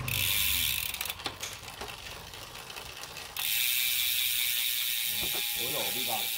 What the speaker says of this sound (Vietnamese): Là đĩa đang ở đĩa to nhé, em xuống đĩa nhỏ này.